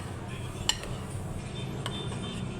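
A utensil clinks against a pan while chicken fillet is stirred, two or three sharp metallic taps over a low steady background hum.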